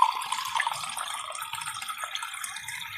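Water pours into a sautéed pechay dish, a steady close splashing and trickling of liquid filling the pan for a few seconds with no voices.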